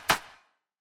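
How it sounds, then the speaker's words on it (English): A pre-shifted clap sample from a deep house track, a single sharp clap with a bright burst that fades in a short reverb tail, heard alone. "and then a pre-shifted clap here."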